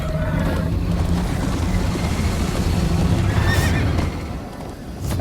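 A horse neighs loudly in Minecraft: Story Mode amid hoofbeats and rushing movement, the whinny rising and falling over a busy, continuous background.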